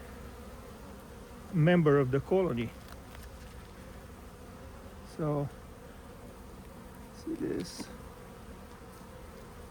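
Honeybees buzz in a steady, soft hum throughout a colony inspection while someone talks in short bursts over it.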